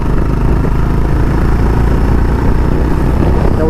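A 2025 Honda Hness CB350 motorcycle engine thrums loud and close during a test ride, a dense, continuous mid-low rumble with no speech.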